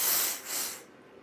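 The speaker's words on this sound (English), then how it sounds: "I'm trying to blow my nose." A short, forceful nose blow, a breathy hiss that fades in two pulses within about a second.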